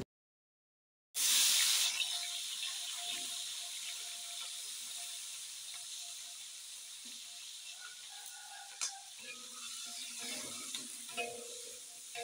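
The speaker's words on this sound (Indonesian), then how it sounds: "Sebelum diulek, aku mau goreng dulu ini bahan-bahan sambalnya" Red chilies, tomato, shallots and garlic sizzle steadily in hot oil for sambal, a loud, continuous frying hiss that starts abruptly and stays close, with occasional pops and stirring clatter.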